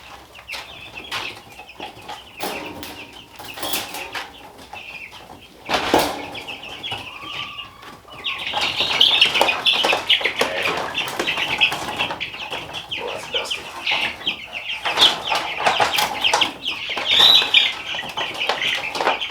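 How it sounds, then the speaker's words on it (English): Chickens being moved into a box brooder flap their wings in bursts of fluttering, with clucks and squawks close by, getting louder and busier in the second half. "They got to flapping their wings and stirred up a bunch of dust."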